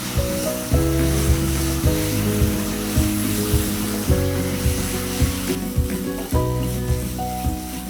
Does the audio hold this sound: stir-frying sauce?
yes